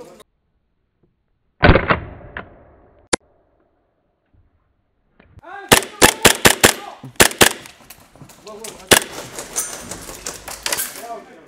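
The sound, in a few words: airsoft gun shots during a game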